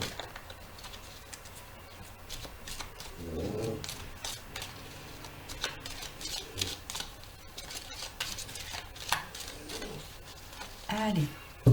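Tarot cards being shuffled and cut by hand, close and quiet, with soft papery riffles and flicks and a few sharper snaps, under faint background noise.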